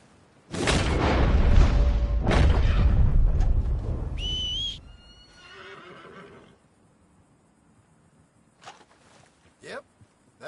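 A horse in a video game, spooked by a gunshot, whinnies loudly over a burst of noise and hoofbeats, then gives a sharp, squealing high whistle; the sound fades into quieter scattered clops and ambience.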